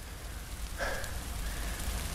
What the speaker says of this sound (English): But right now it's raining too much.